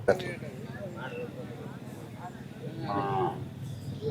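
Cattle low repeatedly at a busy native cattle market in Palayakottai, with drawn-out moos rising over constant crowd chatter and people talking nearby.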